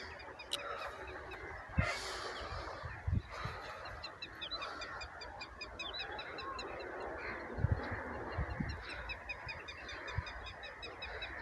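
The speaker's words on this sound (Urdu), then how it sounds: "صرف پرندوں کی آواز آ رہی ہے، پرسکون زندگی ہے، پرندے اڑ رہے ہیں، صبح صبح پرندوں کی آواز ہے" Birds call on a quiet village morning in rural Pakistan: soft repeated high chirps run throughout, with a few louder honking calls breaking through now and then, all faint and somewhat distant.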